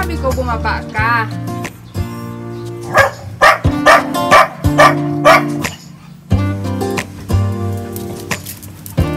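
Several dogs bark in loud, repeated bursts close by behind a closed door, with short gaps between volleys and a person speaking Tagalog over and between the barks.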